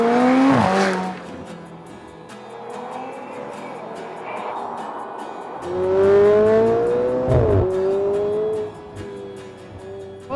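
McLaren 720S Spider sports car being driven hard, its engine rising and dropping through gear changes, with two loud revving bursts and rising pitch sweeps close up and quieter cruising between.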